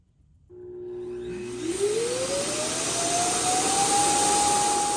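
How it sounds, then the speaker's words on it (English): An iLife T10s robot vacuum's dock switches on to empty the dust box, rising into a loud, steady whooshing roar with a tone that climbs in pitch as the motor spins up, heard alone at close range. "Start dust collecting."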